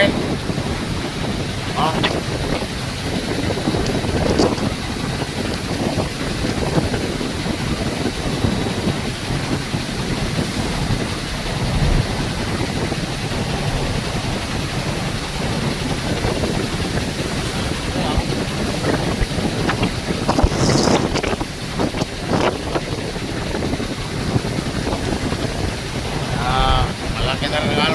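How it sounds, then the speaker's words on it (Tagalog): Strong wind buffets the microphone in a constant roar over the rushing sea and a ferry's drone, crossing from Matnog, with a brief voice now and then. "Lakas ng hangin"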